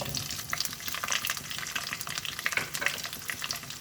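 Small shallots, cut into quarters, fry in a pan for a fish curry and give off a dense, close crackling sizzle. Scattered light clinks of stirring sound through it, with no talk.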